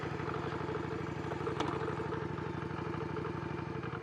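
A Yamaha Virago 535 motorcycle runs on choke, its engine holding a steady, rapid idle chug with a mechanical clatter throughout, fairly quiet and close, with no speech.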